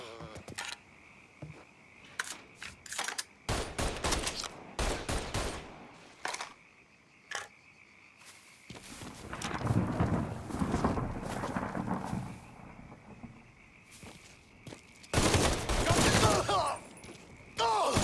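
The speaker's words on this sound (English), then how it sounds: "Can't move for him firing!" Enemy gunfire in the Mafia III video game, a sequence of sharp bursts and shots coming in clusters, some loud and close, with busier stretches of firing toward the middle and end.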